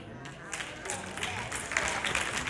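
A church congregation claps during a sermon, a scattered, rising patter of applause that runs steadily underneath a preacher's continuing voice.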